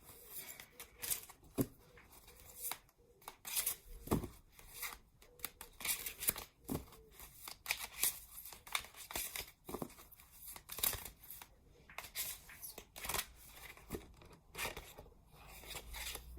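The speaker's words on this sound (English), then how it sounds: "I'm just going to shuffle this deck again." Oracle cards being shuffled in quick riffling bursts, repeated crisp flutters and slaps of paper, close up, with no talking.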